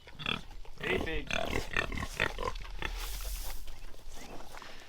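A farm pig grunts and snorts close by in a dense, continuous stream of rough, throaty sounds, with shuffling and rustling noise filling the background.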